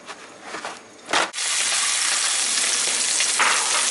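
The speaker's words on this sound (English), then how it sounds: "add the salmon into the pan with some olive oil" Salmon fillets placed skin down in hot olive oil in a pan, a brief clatter and pause followed by a loud, steady, close sizzle that continues to the end.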